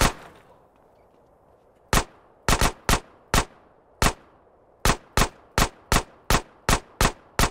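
Gunfire from GTA San Andreas: a single sharp report, a pause, then a run of evenly spaced loud shots, close and punchy, with no talking.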